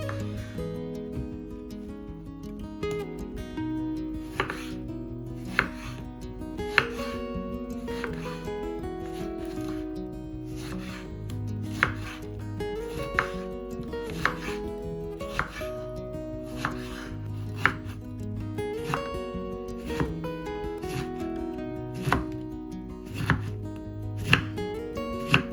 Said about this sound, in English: First, cut off the ends and slice the lemons.